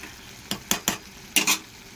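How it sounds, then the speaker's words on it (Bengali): A spatula scrapes and knocks through salted vegetables in a frying pan, five short close strokes in two bunches over a faint background hiss, with no voices. "নুনটা দিয়ে ভালো করে নেড়ে চেড়ে"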